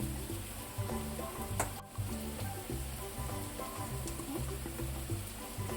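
Onion and spices, with turmeric, chilli masala and salt, fry for an egg masala in a pan. A steady, close sizzle runs throughout with rhythmic scraping as the mixture is stirred.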